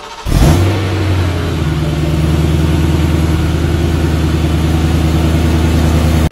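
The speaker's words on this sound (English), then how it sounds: "today we are driving a 2009 Ford Crown Victoria Police Interceptor" A 2009 Ford Crown Victoria Police Interceptor starts up and pulls away, its V8 engine droning steadily and loudly up close after a sharp onset, with no talking.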